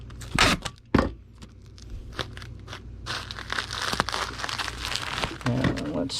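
Bubble wrap is wrapped around an item, giving close crinkling and crackling with a few sharp rustles and pops throughout, while a person talks over it.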